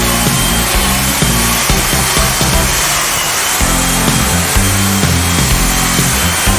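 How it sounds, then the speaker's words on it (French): Power saw roughing out wood, a loud, continuous grinding roar that runs without pause, its pitch wavering slightly as the blade bites. "Alors, la scie mécanique est le premier outil qu'on emploie pour dégrossir."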